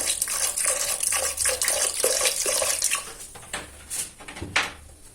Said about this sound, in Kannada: ಒಂದು ಗ್ಲಾಸ್ ಅಷ್ಟು ನೀರನ್ನು ಸೇರಿಸ್ಬೇಕು